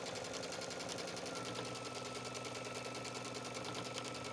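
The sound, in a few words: sewing machine stitching trim onto towel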